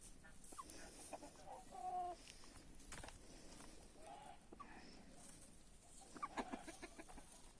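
Hens cluck softly outdoors on a farm in sunshine while roaming the greenery: scattered short calls at moderate distance over a faint breezy background, with a few louder clucks near the end.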